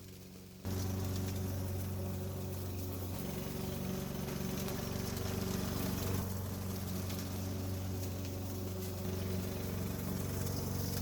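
A lawn mower starts up and runs steadily while cutting a backyard lawn, its engine a loud, constant drone close by that holds throughout with slight shifts in pitch and no talking.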